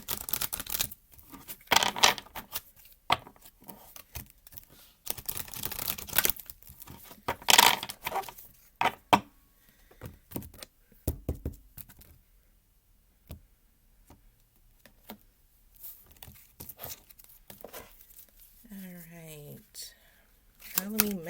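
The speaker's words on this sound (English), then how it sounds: "So I'm going to go ahead and shuffle and we'll get 3 cards" Tarot cards riffle and snap in quick bursts of shuffling, with soft talking in between and a brief pause.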